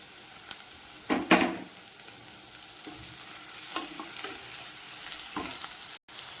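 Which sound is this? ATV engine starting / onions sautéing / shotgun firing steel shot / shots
onions sautéing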